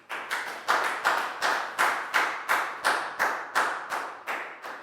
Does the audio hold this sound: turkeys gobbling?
no